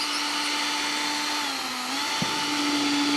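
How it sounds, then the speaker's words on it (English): A power drill bores through the handle of a handmade drum, a steady whining hum that dips in pitch midway as the bit bites, with a brief knock near the end. "You can tell when you're drilling through the handle than when you're drilling through the drum."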